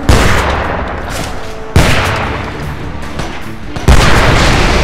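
Three loud, close shotgun blasts from the video game Homefront land at even intervals, each a heavy boom that fades into a rumbling tail.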